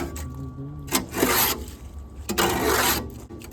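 A shovel scrapes across wet concrete mix in two long, rough, gritty strokes, each a loud broadband scrape with a short pause between them.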